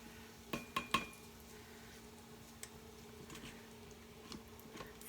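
A spoon scoops chopped bacon out of an Instant Pot, giving a few quick, light metallic clinks early on, then sparse soft taps and scrapes in a quiet kitchen.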